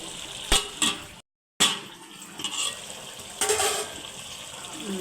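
Water is poured from a vessel into a pan of chicken cooking with vegetables, coming in short splashing bursts with a brief pause, close and fairly quiet.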